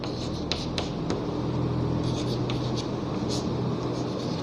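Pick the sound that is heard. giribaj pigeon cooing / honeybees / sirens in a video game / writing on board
writing on board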